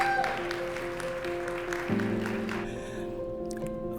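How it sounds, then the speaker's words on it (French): An audience at a Congolese community New Year celebration in Vermont applauds for the community presidents, a steady patter of clapping over a sustained musical hum. "Acclamez pour eux, s'il vous plaît"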